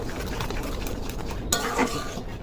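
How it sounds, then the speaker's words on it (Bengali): A spoon stirs and mashes nearly boiled lentil dal in a cooking pot for mango dal, soft wet churning and scraping with a couple of sharper clinks against the metal near the end. "ডালটাকে আমরা সুন্দর করে ঘুটে নেব"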